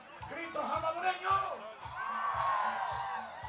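Festival crowd at a Salvadoran event letting out a collective shouted yell, a broad sustained roar of many voices with rhythmic low thumps beneath, fairly loud and close.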